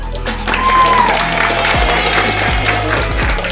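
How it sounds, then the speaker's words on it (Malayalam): A school prize-giving audience applauds, a loud sustained wash of clapping from a large crowd with a low hum underneath and a few thumps on the microphone. "കൈയടിക്ക്."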